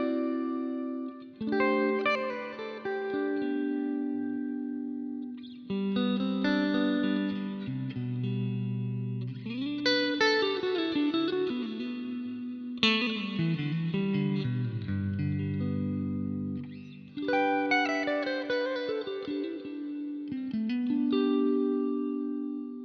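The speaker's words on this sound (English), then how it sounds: "the next patch is a plate type reverb with a high cut" Electric guitar phrases played through a Boss RV-500 set to a plate reverb with the high end rolled off and a long pre-delay, sounding as several separate chords and melodic runs with smooth, lingering washes between them, moderately loud and without talk.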